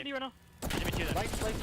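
Rapid gunfire bursts from a Call of Duty League match, dense and loud after a brief lull, under the hubbub of a competitive game with crowd or commentary noise around it.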